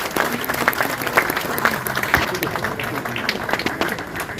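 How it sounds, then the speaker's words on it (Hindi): Audience applause at an awards function of a society, sustained crowd clapping with sharp individual claps standing out and a voice heard over it. "तालियां बड़ी ज्यादा जी"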